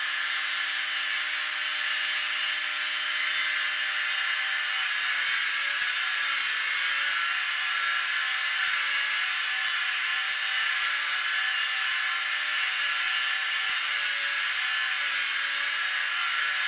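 A grinder runs in a steady, loud, unbroken whine while a knife blade is bevel ground and plunge cut against a multi guide, the tone holding even from start to finish with no voices.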